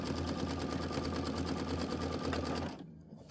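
Sewing machine running a geometric quilting stitch on taut fabric for a Kimberbell Enchanted Winter quilt block, a steady rapid needle chatter with a low motor hum, close and continuous before stopping abruptly near the end.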